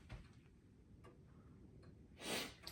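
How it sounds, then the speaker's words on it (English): An old family clock, just repaired, ticks faintly in a quiet room, with a few soft, spaced ticks and a brief breath-like rush near the end. "I just fixed this clock"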